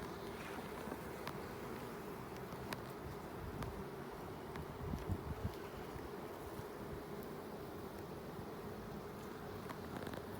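Honey bees buzz steadily around an open hive during a winter spot check, a dense close drone with individual bees passing nearby and no talk.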